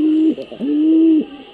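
A pet pigeon with a cold coos up close, two low drawn-out coos with a short breathy break between them, slightly rough in tone and heard alone.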